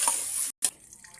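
Water runs from a tap into a cooking pot holding fish, a steady close trickle broken by a brief silent gap before a faint, thinner flow continues.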